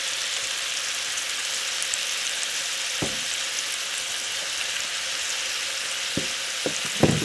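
Ribeye steak seasoned with salt, garlic powder and black pepper fries in a pan, giving a steady, close sizzle with a few sharper pops and crackles near the end, no voices.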